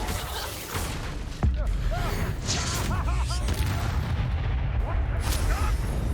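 A Bombarda spell explosion in Hogwarts Legacy, a sudden booming blast followed by rumbling combat effects and chirping magical sounds, with a voice talking over the action.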